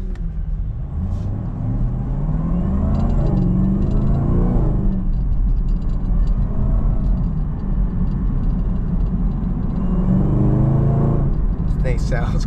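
A Chevrolet Camaro ZL1 engine rumbles loudly and steadily while driving, with swells of revving under frequent talk and excited exclamations from the driver.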